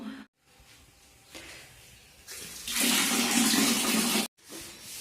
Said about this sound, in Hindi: तो अभी मैं धो रही हूँ जी कपड़े